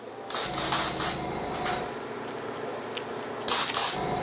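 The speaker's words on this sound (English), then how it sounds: "So you take our black spray, cross through the camera real quick." A few short hissing bursts from a can of black spray at a barbershop, two clustered near the start and another toward the end, close and fairly loud.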